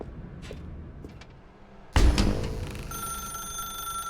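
A telephone rings in the video game The Stanley Parable, breaking in abruptly after a quiet stretch with a loud thump and then a steady, sustained electronic ring.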